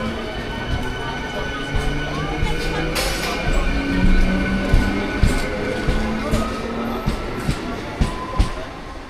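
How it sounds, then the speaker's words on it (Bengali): A train departing a station rumbles and rattles past, with clicking wheel knocks and a brief squeal, while a voice talks over the noise. "আর এই ট্রেন কিন্তু চলে যাচ্ছে ট্রেনের গন্তব্যস্থলের দিকে"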